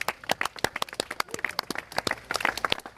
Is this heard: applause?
yes